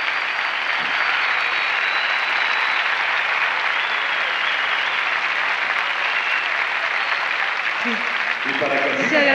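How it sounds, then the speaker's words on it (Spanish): Audience applause filling the Poliedro de Caracas arena during a 1992 Miss Venezuela broadcast, a dense sustained ovation that stays loud throughout, with faint tonal music surfacing near the end. "Disfruta de este aplauso que te da el Poliedro de Caracas."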